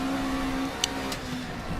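A race car engine in the RaceRoom Racing Experience video game hums at a steady mid pitch, a short sharp click and a faint rising whoosh breaking through briefly.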